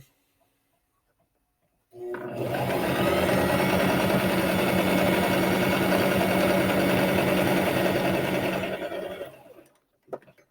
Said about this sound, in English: Couple stitches, back stitch.